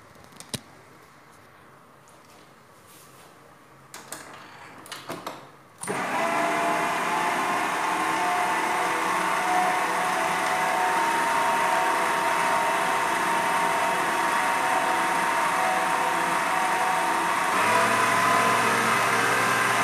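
An electric mixer kneads brioche dough with yeast and milk, starting after a few light clicks and rattles into a steady loud motor whir that hums on unbroken, shifting slightly in pitch near the end.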